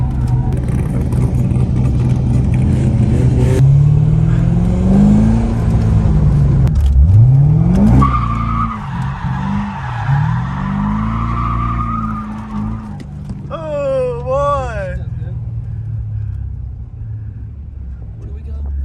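A stock Corvette drifts on a race track, engine revving and rising and falling with long tire squeals and skids, close and loud, while people talk and shout excitedly over it.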